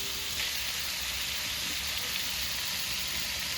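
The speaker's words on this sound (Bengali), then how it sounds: "টমেটো দিয়ে মাংসটাকে সব মশলা দিয়ে ভালো করে কষিয়ে নিয়েছি" Chicken pieces and chopped tomato fry in a pan with spices, giving a steady, even, fairly quiet sizzle throughout with no talk.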